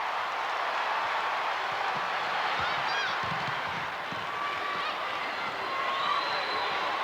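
Basketball arena crowd at a 1995 Tennessee at Vanderbilt game, a steady broad roar of fans that never drops, with whistles, squeaks and scattered shouts rising through it and a commentator talking over the noise.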